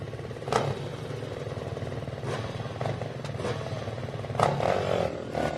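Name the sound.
Honda racing motorcycle engine at Baja 1000 start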